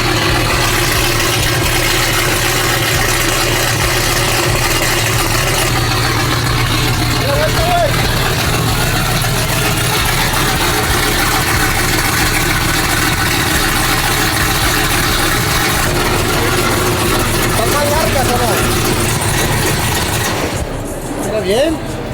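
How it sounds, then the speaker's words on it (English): A supercharged truck engine idles loudly and steadily, a deep continuous rumble close by that holds for the whole stretch, with people talking faintly over it. "It sounds like an NA truck. It sounds like an all motor truck, but it ain't."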